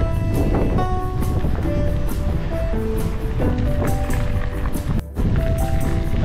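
Strong wind buffeting a rider during an outdoor mountain bike trail ride, heard as a loud, constant rushing roar with faint whistling tones and a momentary dip near the end.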